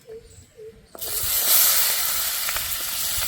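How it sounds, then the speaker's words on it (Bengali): Garlic drops into hot oil already frying black cumin and bursts into a loud, close sizzle that stays steady with small pops. A couple of soft clinks come before it, and no one speaks. "রসুনটাও একটু ভেজে নেব।"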